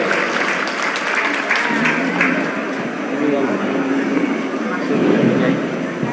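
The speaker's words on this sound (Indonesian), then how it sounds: "Tepuk tangan untuk mereka berempat, luar biasa" An audience gives steady applause for four performers, a continuous wash of clapping at even loudness with voices mixed in.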